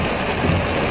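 Steady, dense rain pouring down on a surface, a loud continuous hiss with no pauses or voices.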